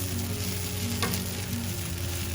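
Idlis coated in Molaga Podi are stirred in a hot pan, a continuous loud sizzle and frying hiss with a faint utensil scrape, heard close up and without talking.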